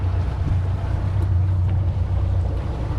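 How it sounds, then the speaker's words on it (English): A small boat runs across open water, its engine drone steady and loud under heavy wind buffeting the microphone, with soft thumps and splashes of the hull meeting waves. "picking up waves right here."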